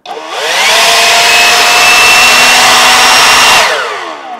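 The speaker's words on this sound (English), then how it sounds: "if you have a lot of blowing to do, you can just push that lever and not use the trigger" A DeWalt 60V cordless leaf blower spins up and runs loud and steady for about three seconds with a high whine and rushing air, then winds down and stops. No voices are heard.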